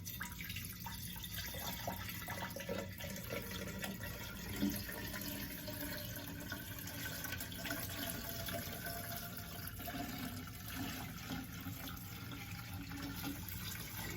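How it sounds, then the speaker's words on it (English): Water is poured into a vase for a wedding centerpiece, a faint, continuous splashing and trickling fill that stays steady and low-level throughout, with no talking over it. "I'm going to take my water, and I'm just going to pour it into my vase"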